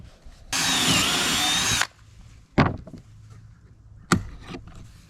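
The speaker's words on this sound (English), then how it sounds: "and drill your hole." A power drill whirs loudly and steadily for over a second, drilling a hole in wood for a cabinet door, then stops; a couple of sharp knocks follow in a quiet room.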